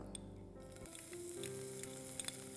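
Ginger sautés in a pan with cumin seeds and asafoetida, a soft, quiet sizzle with light crackles and an occasional stir.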